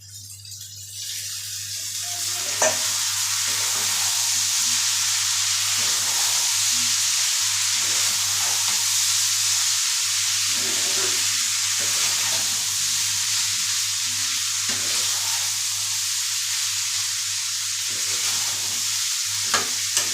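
Pasta frying in a pan over already fried potatoes, a steady close sizzle running throughout with soft scraping stirs at intervals and a faint electrical hum underneath.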